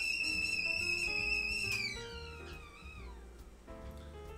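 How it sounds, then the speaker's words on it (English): A shrill, steady whistle from a kettle holds a high pitch, then slides and wavers downward as it fades, with faint clinking and rumble beneath. "now that whistling noise means either our tea is ready"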